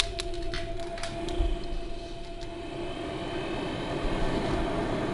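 A car's blower fan motor runs steadily during a bench test on a rusty Ford F250, a continuous whirring hum with a faint tonal whine, close and even, with a few brief clicks near the start.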